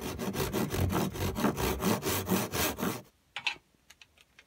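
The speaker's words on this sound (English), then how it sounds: "put this in the bench hook, get our tenon saw, and line it up with the line" Tenon saw cutting wood held in a bench hook, a rhythmic run of loud back-and-forth strokes for about three seconds, then the sawing stops and only a few faint taps follow.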